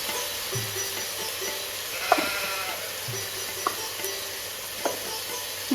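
Spices and turmeric powder sautéing in a pan for mutton soup, a steady soft sizzle with a few faint scrapes and taps of a stirring utensil, no voices.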